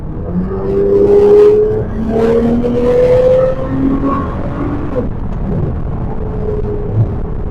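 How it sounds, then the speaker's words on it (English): A tuned 740 bhp Nissan R35 GT-R engine revs up under acceleration with rising tonal intake whine and roar, sustained and fairly loud, easing off toward the end. "you can just hear them intakes screaming"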